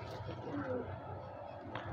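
Dubaz pigeons coo softly at close range, a low murmuring call rising through a steady background, with a few brief chirps and some faint nearby voices.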